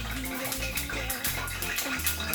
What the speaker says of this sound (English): You can hear the oil popping behind me